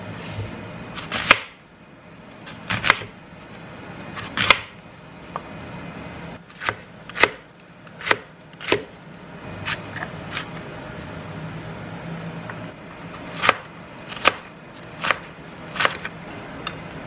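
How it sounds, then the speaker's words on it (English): A series of sharp knife chops through an onion on a cutting board, coming in irregular bursts and isolated strikes, close and fairly crisp, with no talking. "get chopping"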